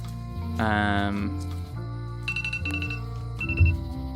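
A phone rings with repeated electronic tones during a Return to Monkey Island game session, layered over game music and sound effects and partly masked by them.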